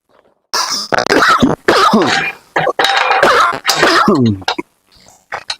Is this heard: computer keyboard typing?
no